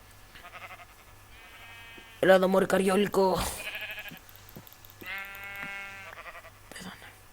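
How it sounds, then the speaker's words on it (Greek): Minecraft sheep bleat repeatedly in wavering, nasal calls, close and clear, with one burst of harsher noise midway while someone talks over part of it. "Α, πρόβατα."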